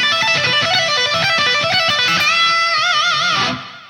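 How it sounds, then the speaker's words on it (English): Distorted electric guitar runs a repeating stretched-out pentatonic lick with hammer-ons, rapid close notes giving way to a wide vibrato bend, loud and unaccompanied before stopping sharply. "we've got this repeating stretched out pentatonic idea."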